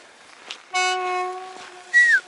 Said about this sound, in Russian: Электричка идет вот.